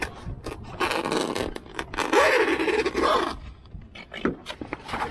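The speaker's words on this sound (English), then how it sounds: "zipper." A series of rough zipper pulls, some long and grinding, others short and quick, close by with scraping and handling noises between them.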